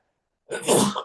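A single sharp sneeze bursts out after a moment of silence, close and fairly loud, then trails off quickly.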